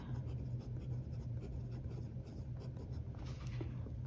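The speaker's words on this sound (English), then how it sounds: "doing a quick pen test on the Esterbrook notebook paper." An Esterbrook Model J dip pen with an extra fine nib scratching on Esterbrook notebook paper, a faint close scratchy rustle of short writing strokes with no voices.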